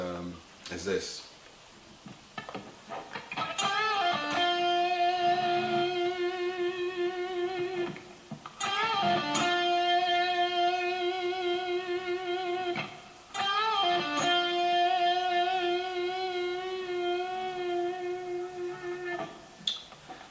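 An electric guitar plays a blues-style lick from a song's solo three times, each a bent sustained note ringing out loud and clear for several seconds, with short gaps and a small pluck before each phrase.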